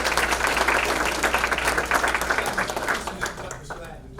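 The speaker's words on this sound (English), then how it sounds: "Let's give another round of applause for these two excellent leaders." An audience at a school board meeting claps in sustained, dense applause that fills the room and then thins out toward the end, with some voices mixed in.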